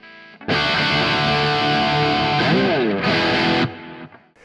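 A held, distorted electric guitar chord through a Neural DSP Quad Cortex with a bending note midway, repeating delay echoes trailing the sound as it cuts off and decays.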